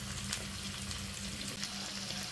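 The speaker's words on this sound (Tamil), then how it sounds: "இப்போ பொரிஞ்சிட்டு இருக்கு." Chicken pieces deep-frying in oil over a medium flame for chilli chicken, a continuous close, dense sizzle and crackle with small pops, steady throughout and without talk.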